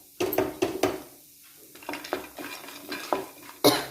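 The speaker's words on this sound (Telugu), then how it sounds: "ఇలా ఆయిల్లో పల్లీలు వేసుకొని ఫ్రై చేసుకుందాము." Peanuts are stirred in a little oil in a kadai, with a faint sizzle beneath sharp metal spoon scrapes and clinks against the pan, close by, coming in irregular bursts.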